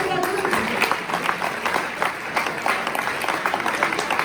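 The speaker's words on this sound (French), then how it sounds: "Encore un grand applaudissement pour nous." Audience applause at an Electrolux roadshow dinner event, a steady dense patter of many hands clapping throughout, with voices mixed in underneath.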